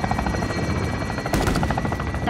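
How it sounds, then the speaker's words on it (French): Helicopter rotor in the Modern Warfare video game, a loud, steady thudding drone with a continuous buzzing whine that holds throughout, briefly swelling in the middle. "Ça, c'est notre hélicoptère à nous."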